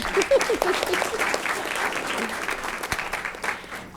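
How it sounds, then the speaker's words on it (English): Audience applause at a school board meeting honoring an absent 7th-grade cross-examination student, a steady room-filling clatter of many hands holding for the whole stretch with a few murmurs mixed in. "let's give him a round of applause"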